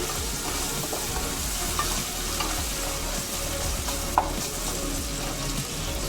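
Bagara rice ingredients fry in a pan with a loud, dense, continuous sizzle and a few faint stirring clicks.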